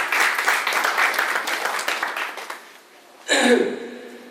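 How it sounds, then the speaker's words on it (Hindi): An audience at a DAV school event claps loudly for about two and a half seconds, then the applause thins and fades, and a louder voice or tone breaks in near the end. "जोरदार तालियां इनके लिए"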